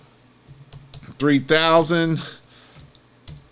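Keys on a computer keyboard click in scattered taps before and after someone speaks briefly, the typing soft and close around his voice.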